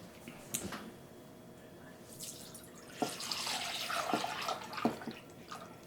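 Maple syrup is poured to fill a jar, a thick, wet trickle and glugging with a few soft drips and splashes, near and quiet, swelling in the second half.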